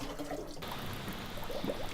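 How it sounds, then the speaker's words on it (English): Spring water at the Cheongsong natural spring pours and gurgles steadily while being drawn, a close continuous splashing flow. "we came across a water spring"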